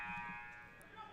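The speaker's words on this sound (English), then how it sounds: "the buzzer sounds" A long, steady electronic period-end buzzer blares loudly at a hockey game at a fairgrounds arena, with faint crowd noise underneath.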